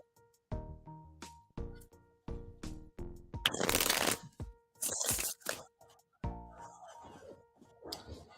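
Tarot cards being shuffled up close: a run of crisp riffles, taps and squared-up thumps in uneven bursts, with no voices.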